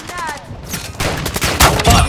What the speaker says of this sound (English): I'm spinning in a circle shooting.